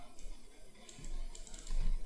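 Soft, rapid computer keyboard typing clicks along faintly over a steady background hum, a quick run of light keystrokes with no talk.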